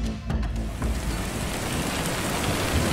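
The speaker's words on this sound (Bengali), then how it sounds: "বৃষ্টিটা এবার জোরালো হয়েছে" Heavy rain pours steadily and loudly, a dense continuous hiss with no voices over it, building from a slightly lighter start into a full downpour.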